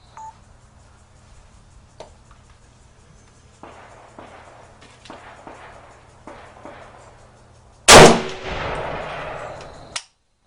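A Century Arms CETME rifle with feeding problems: quiet metallic handling clicks, then a single loud sharp shot near the end with a short ringing decay and a final click.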